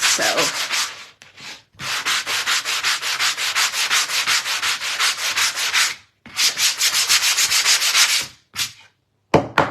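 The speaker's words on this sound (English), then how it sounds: "what I am going to do is give this a quick sand because it hasn't been sanded" Rough, unsanded wood for a DIY craft piece is sanded by hand in quick back-and-forth strokes, a close, loud, rhythmic scratchy rasp with two brief pauses and no talking.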